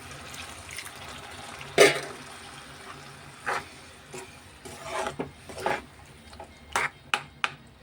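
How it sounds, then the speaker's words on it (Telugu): Water is poured into a pan of cooking chana dal, drumstick and tomato masala curry seasoned with turmeric, chili and salt, giving a few short, close splashes and clinks of a utensil against the pan in a quiet kitchen. "కొద్దిగా వాటర్ వేసుకుందాం"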